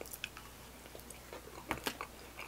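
Chewing a Crumbl cookie with crunchy marshmallow pieces, quiet close crunches and bites in an irregular rhythm, a couple of louder crunches near the end, no talking.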